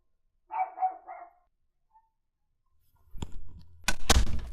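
A dog barks three times in quick succession nearby, then a pause before louder clattering, thumping household noise takes over near the end.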